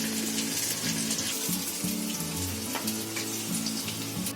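Fish sizzling and frying in a hot pan in a dhaba-style kitchen, a steady dense crackle running continuously and close up with no talking.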